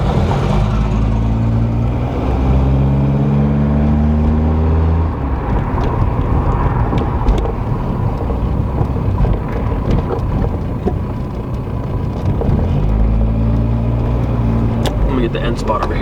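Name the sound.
1987 Volkswagen Jetta MK2 engine idling while driving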